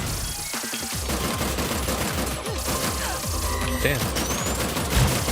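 Video game gunfire rattles almost constantly in rapid machine-gun bursts, with crashes and electronic effects in the mix, while a voice talks over the shooting.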